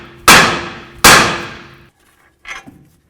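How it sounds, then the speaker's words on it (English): Two loud, ringing hammer blows on the steel steering knuckle of a 2007-2017 Jeep Compass about a second apart, each clang decaying slowly, followed by a softer third tap. "Now we're going to use a hammer and hit right along this area of the knuckle."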